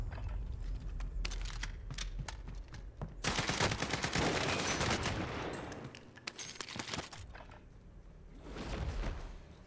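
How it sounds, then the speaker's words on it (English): Gunfire from an online shooting video game, with bursts of assault rifle fire and scattered shots coming in clusters amid other game sounds, loud and close throughout, with no talking. "I shot him literally as he came up the stairs."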